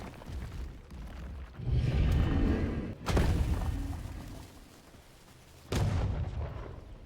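Bomb explosions triggered by a Golem boss in the game V Rising, with heavy booming blasts, a rumbling stretch and two sharp loud detonations, with continuous game noise in between.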